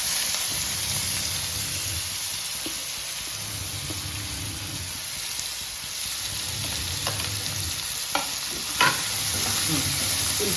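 Onions frying in a pan alongside jackfruit seeds and meal maker, a steady close sizzle with occasional stirring scrapes and a couple of sharp clinks near the end, and no voices.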